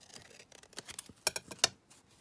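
Scissors snipping through coffee-dyed paper, a quiet close series of short crisp cuts and rustles, irregular in rhythm with small pauses between snips.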